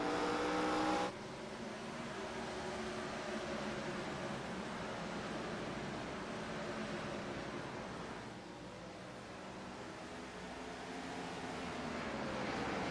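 In a Total Nonstop Racing GNS Series video game at Bristol Motor Speedway, the No. 27 Monte Carlo stock car's engine gives a steady, mid-level roar. A faint higher whine slides in pitch as the car passes.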